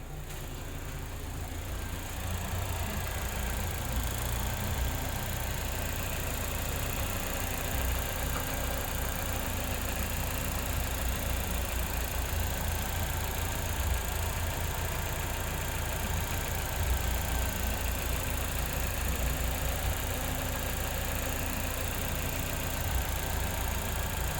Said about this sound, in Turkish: Biraz da size motor sesi dinleteyim.